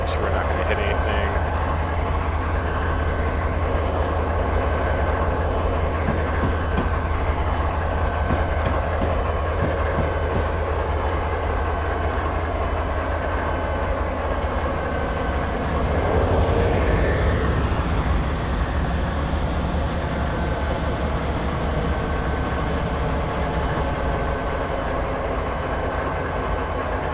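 A train rolling in Train Simulator 2013 on the Granite to Wycon route, a constant low engine drone with rhythmic rail clatter and a swell midway, with someone talking over it at times.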